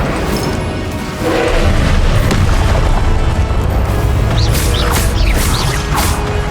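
An Incendio fire spell bursts in the Hogwarts Legacy game amid steady loud combat noise: dense booming, whooshing flames and crashing impacts that run unbroken throughout.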